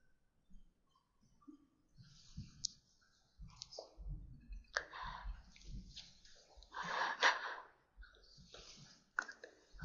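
Computer mouse clicks during a software demo of a document viewer web part, several quiet, scattered clicks at irregular intervals mixed with faint breathy, rustling handling noises, no talking.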